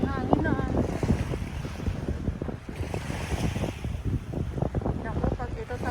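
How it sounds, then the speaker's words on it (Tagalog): Strong wind gusts roar across the dolomite sand beach on Manila Bay, with surf and a steady rushing blow throughout, a voice talking over it. "biglang lumakas ang hangin na."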